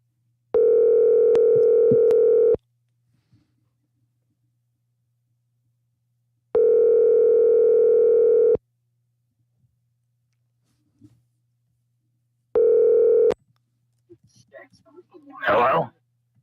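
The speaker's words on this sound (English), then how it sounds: "I'm going to call this guy back real quick." An outgoing telephone call rings back three times, clean electronic tone bursts of about two seconds separated by long silent gaps, the last one cut short before a voice briefly answers at the end.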